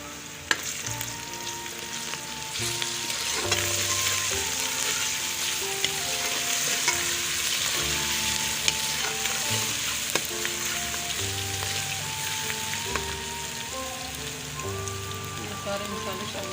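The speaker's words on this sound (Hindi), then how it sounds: "ये प्याज फ्राई हो गया। ये लहसुन अदरक का पेस्ट शामिल कर रही हूँ।" Garlic ginger paste frying with onions in a hot pan, a steady loud sizzle and crackle with occasional stirring clinks, close up under soft background music.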